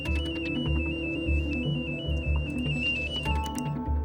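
On the Swedish icebreaker Oden, an alarm tone sounds after a failed ship engine start. The steady, piercing tone shifts pitch once, over a rumbling bed of machinery noise.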